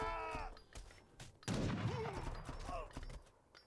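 Gunfire rattles in the video game Age of Empires III as a scatter of sharp, muffled shots and bursts mixed with game voices and unit chatter, fairly quiet overall.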